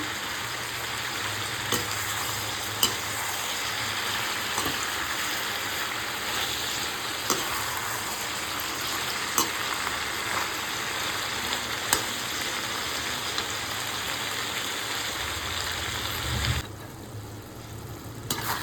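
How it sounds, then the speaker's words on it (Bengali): Malabar spinach leaves and softened vegetables stirred in a frying pan, a steady dense sizzle with scattered spatula clicks throughout, fading quieter near the end, no speech. "পাতাগুলি দিয়েও ভালোভাবে নাড়িয়ে নিচ্ছি"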